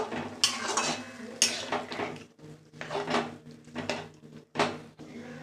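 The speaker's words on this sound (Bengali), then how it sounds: "এবার ভালোভাবে কষিয়ে নিলাম, কষিয়ে নেব" Mutton curry masala with turmeric, chilli paste and a splash of water stirred and sautéed in a pot, a spoon scraping and clanking against the metal in repeated bursts, fairly close.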